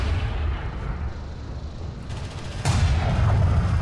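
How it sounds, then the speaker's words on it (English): Railgun fire in a video game match: a steady low rumble, then a sudden sharp discharge that swells into a loud, deep booming roar sustained to the end, without talk. "Appreciate this railgun noise, by the way."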